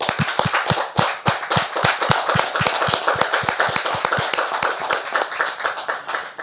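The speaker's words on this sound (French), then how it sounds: "Est-ce qu'on peut faire mention spéciale pour elle par des applaudissements" A studio audience on a French talk show claps in a fairly quick, sharp, rhythmic pattern, with distinct individual claps close and crisp rather than a blurred wash.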